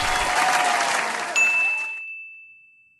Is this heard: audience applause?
yes